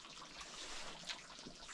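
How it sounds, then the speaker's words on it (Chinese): Braised pork simmering in a pot over a wood-burning camp stove inside a vehicle, giving a steady soft bubbling and gurgling of liquid at close range, continuous and low in level throughout. "望着它咕嘟咕嘟咕嘟，不停的咕嘟咕嘟"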